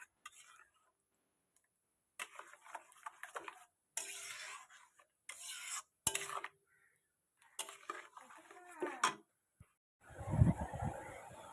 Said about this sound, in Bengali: দেওয়ার পর কিন্তু অনবরত নাড়তে হবে, যাতে ডেলা ডেলা না পাকিয়ে যায়।